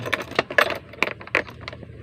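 Car keys jangle and click in an ignition switch as the key is turned during troubleshooting of a faulty ignition; several close, sharp metallic clinks and rattles in quick succession with no talking.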